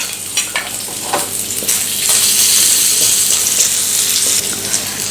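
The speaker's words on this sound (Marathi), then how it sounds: "आता तेल गरम झाल्यानंतर यामध्ये आपण आलं आणि लसूण घालूयात सुरुवातीला आलं आणि लसूण थोडंसं परतून घेऊया" Ginger and garlic sauté in hot oil in a wok while chicken fried rice is being made. There is a loud, close, continuous sizzle with scraping stirs and bursts of crackling, and it swells in the middle.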